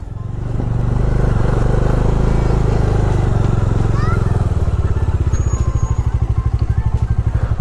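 A motorcycle rides through Marpha village in Nepal, its engine close and loud with a steady, rapid pulsing beat that holds throughout, rising in the first second and faintly wavering near the end.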